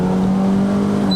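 A Ford Fiesta 1.6L Sport with a four-cylinder naturally aspirated Sigma engine, in its L sport mode on a mountain climb in Malaysia, gives a loud, steady engine drone heard from inside the cabin.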